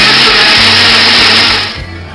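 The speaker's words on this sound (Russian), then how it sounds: "Взбиваем персики в блендере." A blender whirs loudly and steadily, pureeing peaches with syrup for a cocktail, then winds down near the end with no talking.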